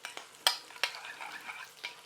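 A spoon mixes red, yellow and green peppers with seafood boil in a pan, giving several quick, close scrapes and clinks over a soft, quiet sizzle.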